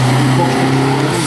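A historic race car at the Urcy hill climb roaring past close by, a loud deep engine drone that shifts pitch slightly as it goes, filling the whole moment without talk.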